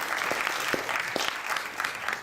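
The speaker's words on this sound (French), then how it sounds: "On peut l'applaudir." Audience applause for a stand-in accompanist at a music conservatoire concert in Cannes, a continuous, even clapping from a full hall with a few louder individual claps.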